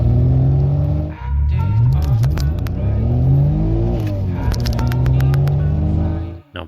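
Turbocharged AWD Toyota Camry engine at about 17 psi boost revving hard through repeated pulls, rising and falling tones with a loud close rumble, brief gear-change dips and crackles between runs.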